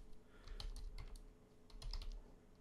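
Quiet typing on a computer keyboard during a Dell PowerEdge T320 server installation, a short run of soft, irregular key clicks in two small bursts over a low hum.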